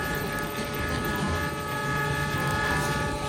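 A Rail King steam-style toy train is pushed along its track, giving a steady, continuous rolling rumble with a faint electronic hum underneath, close and unbroken.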